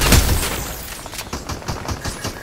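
Rapid gunfire in the video game Fortnite bursts in a quick rhythmic series of sharp cracks after an initial loud blast, close and punchy.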